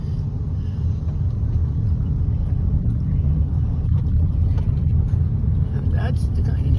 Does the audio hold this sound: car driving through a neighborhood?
yes